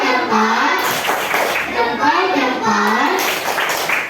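Children in a classroom doing a 'tepuk salut' clap chant, chanting loudly together with claps mixed under their voices.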